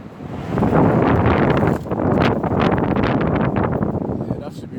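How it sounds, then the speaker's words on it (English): Gusty wind outdoors at a camp, roaring steadily and buffeting the microphone across the whole stretch, with a brief dip partway through. "It's a bit windy today"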